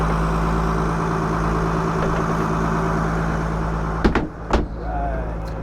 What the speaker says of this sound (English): All right, Seth, so you did forward and reverse, and you're just checking the gear, right?